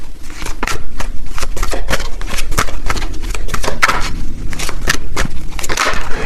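Tarot cards are shuffled and drawn close by in a loud, steady stream of papery riffling and crackling snaps that runs without pause, with no talking.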